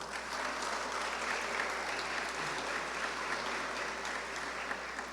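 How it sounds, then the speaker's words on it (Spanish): A hall audience at an industrial forum in Chiclayo applauds a speaker with steady, even clapping that lasts the whole stretch, with no voices over it. "Aplausos, por favor,"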